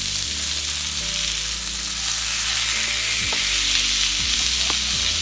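Salmon, skin side in the pan, searing over high heat: a dense, loud, even sizzle close up, with a low hum running underneath and no talking.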